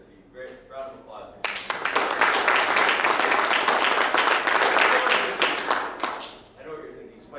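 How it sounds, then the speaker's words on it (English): An audience bursts into loud applause for a speaker at a political freedom summit, the dense clapping starting sharply after a short stretch of quieter murmuring and fading out near the end. "Great round of applause."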